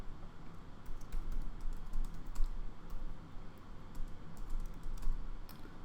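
Steady typing on a computer keyboard during Java programming, a continuous run of close, quick key clicks with occasional heavier strokes over a low background hum.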